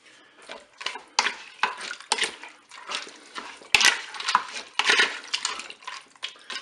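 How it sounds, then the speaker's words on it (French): Ground meat being stirred in a Cookeo multicooker pot, a spoon scraping and clinking against the metal bowl in a string of irregular close scrapes and taps. "Je mélange."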